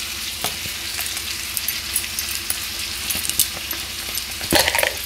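Turmeric powder and spices fry in hot oil with a steady close sizzle, dotted with small metallic clinks and a louder stir toward the end.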